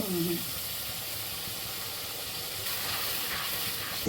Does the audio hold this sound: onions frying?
yes